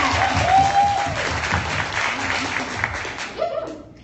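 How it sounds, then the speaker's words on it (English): Loud, full applause from a training-meeting audience in Marysville, Washington, a dense wash of many hands clapping together that holds steady and then tapers off near the end. "And can we give them a round of applause?"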